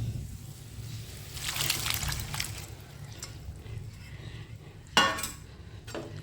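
Lentils (dal) tipped into a pan of tomato and spice masala while cooking ghee dhaba-style tarka, giving soft sloshing and metal clinks of a spatula against the pan, with a sharper clatter near the end.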